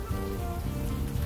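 Steady rain hisses in the video game Unavowed, a dense, even wash of sound with a low tonal hum beneath, constant and unbroken without any voices.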